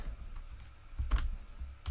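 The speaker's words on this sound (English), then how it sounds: "I've got a new keyboard and it may sound a little bit different as well." Keys clack on a new computer keyboard, a few soft scattered taps with one firmer cluster near the middle, quiet and close over a low background rumble.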